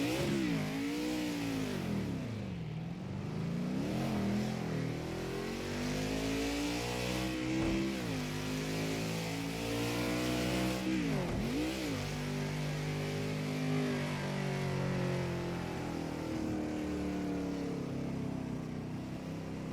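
Car engine in the Project Cars 2 racing game, played on a G920 wheel, revs up and falls back repeatedly as the throttle is blipped through gear changes; a loud, continuous engine note sweeps up and down with no talk.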